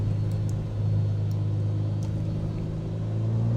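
A Cirrus SR22 piston engine idles steadily while taxiing in Microsoft Flight Simulator, a loud, even low drone with a faint propeller hum and no breaks.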